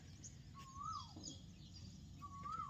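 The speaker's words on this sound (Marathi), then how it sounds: "कुठला पक्षी वराटतोय फक्त कमेंट करून सांग" A bird gives two clear rising-and-falling whistled calls, spaced apart, faint against a soft steady background hiss.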